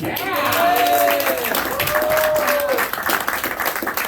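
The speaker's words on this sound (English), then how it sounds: "On a scale of no clapping to a whole lot of clapping" A comedy open mic audience claps and cheers loudly throughout, with a few whoops rising over the steady applause.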